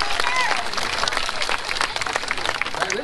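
A large outdoor audience at a 2019 Iowa State Fair alligator show bursts into loud, sustained applause and cheering, a dense, close wash of clapping hands lasting throughout.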